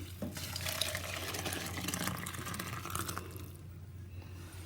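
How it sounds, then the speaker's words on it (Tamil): Tamarind rasam poured from a cooking pot into another vessel, a steady close liquid splashing and trickling that runs for a few seconds, then thins out and fades near the end. "பண்ணிவிட்டு நான் இதை வேறு ஒரு பாத்திரத்துக்கு எடுத்து ஊற்றிக்கிறேன்."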